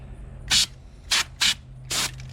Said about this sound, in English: here's the can of aerosol, give you an idea.